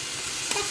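Onion masala sautés in a pan with a steady, close, bright sizzling hiss and a slight stirring bump near the end.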